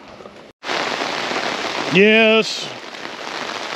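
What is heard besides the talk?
heavy rain falling on a shelter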